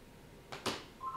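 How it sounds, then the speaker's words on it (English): A phone ringing gives a couple of quick electronic tone bursts, short and fairly faint, followed by a steady beep. "I'm so sorry that my phone keeps ringing."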